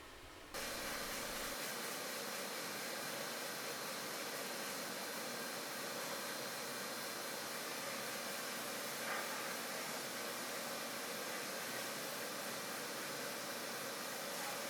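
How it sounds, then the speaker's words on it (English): Parts being sandblasted in a small blast cabinet: a steady, loud, unbroken rushing hiss of air and abrasive that starts abruptly and holds constant, with no talk. "My blast cabinet is pretty small, but I was still able to process quite a few parts through it"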